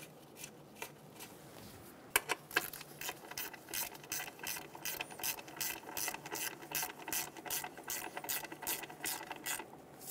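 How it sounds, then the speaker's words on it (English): A ratchet wrench snugs down a bracket bolt during knock sensor replacement on a 2003-2007 Honda Accord, giving a close, fast run of crisp, evenly spaced clicks after a couple of louder knocks. "Get the bolt started"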